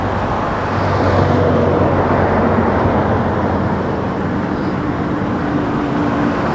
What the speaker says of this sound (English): we get to see Emirates depart over our head now and fly out that way